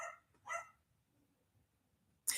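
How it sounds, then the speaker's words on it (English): A neighbor's dog gives two short barks from a distance at a home, separated by quiet, and a third bark breaks in at the end. "That's the neighbor's dog."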